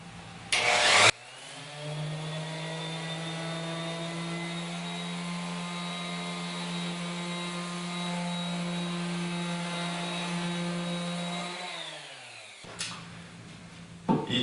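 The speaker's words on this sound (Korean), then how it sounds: "아까 소개해드린 전동 샌더를 이용을 해서 목재를 연마 작업을 해줘야 되죠." An electric sander works on wood in a woodworking class, starting with a thump, then holding a steady, harmonic motor whine for about ten seconds before winding down to a clunk.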